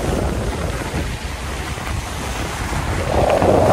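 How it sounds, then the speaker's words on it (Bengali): Waves on the storm-swollen Ganges at Diamond Harbour after Cyclone Remal, a continuous roaring wash of water heavily mixed with gusting wind buffeting the microphone, loud and unbroken, with a surge near the end. "কি ঢেউ মারছে, প্রচন্ড ঢেউ হচ্ছে।"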